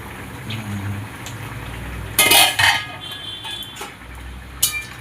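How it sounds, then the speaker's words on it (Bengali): A metal pot lid lifted off a pan of simmering prawn curry, giving a clattering clink and scrape, then a few lighter metallic taps over a soft cooking hiss. "ঢাকনাটা খুলে দিলাম"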